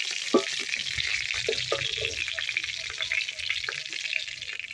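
Freshly caught pond fish frying in hot oil in a village-style kitchen, a steady close hiss with occasional stirring clatters.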